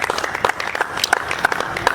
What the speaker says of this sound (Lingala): est-ce qu'on peut encore applaudir pour l'invité du jour?